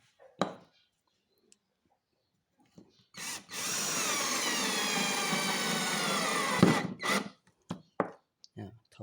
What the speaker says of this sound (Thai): หนึ่งนิ้วโดยประมาณนะครับ สกู เจาะใส่ไม้สนนะ